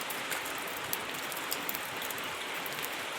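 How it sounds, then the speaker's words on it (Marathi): Heavy rain pours steadily in a farming village, a dense, continuous hiss with scattered sharper drop taps, loud and close, with no voices. "आमच्याकडे तर लय पाऊस आहे"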